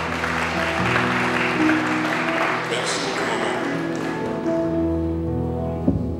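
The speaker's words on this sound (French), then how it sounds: "Let's clap for the Lord." A congregation at a funeral service claps for the Lord, a rush of many hands applauding under sustained singing and organ-like tones, with voices heard throughout.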